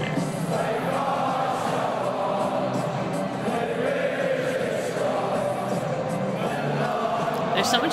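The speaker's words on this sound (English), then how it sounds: "The whole crowd unites in that chant." A massed football crowd chants together in a stadium, producing a continuous, echoing wall of voices that holds a steady level from start to finish.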